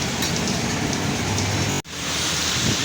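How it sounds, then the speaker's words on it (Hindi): Heavy rain pours down on a Lahore street as a dense, loud, continuous hiss, with a brief sharp dropout near the end before the downpour resumes. "अभी बारिश स्टार्ट हो गई है, काफ़ी ज़्यादा ही हो रही है बारिश।"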